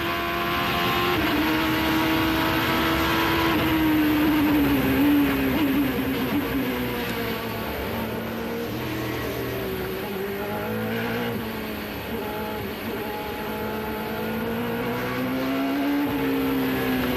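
Onboard an Audi race car in the 2006 American Le Mans Series, the engine roars loud and close throughout, its pitch rising and falling through gear changes and throttle shifts, with no talking.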